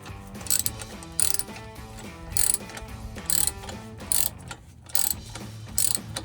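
A hand ratchet tightens an exhaust clamp on a 2005-2010 Mustang V6 axle-back exhaust, giving quick bursts of clicking that repeat about every second, close and clear with no talk.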